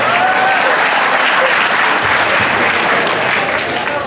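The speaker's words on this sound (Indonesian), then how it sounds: "Tuh, tepuk tangan." Audience applause at a Maiyah BangbangWetan gathering, a steady, loud, dense roar of many hands clapping continuously throughout, with no break or fade.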